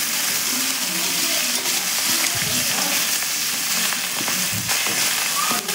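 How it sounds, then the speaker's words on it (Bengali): Fish heads with ginger frying hard in a pan for a Bengali fish head curry, giving a steady close sizzle that runs the whole way, broken by a few soft stirring scrapes and no talk. "তো এই যে মাছের মাথাগুলো আমি এখন খুব ভালো করে ভাজবো, কড়া করে ভেজে নিব লাল লাল করে।"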